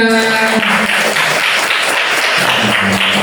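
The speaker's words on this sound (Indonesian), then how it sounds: "tepuk tangan untuk kelas 5" A primary school class of fifth graders claps together in a classroom, a dense burst of applause that starts after a brief voice and carries steadily to the end.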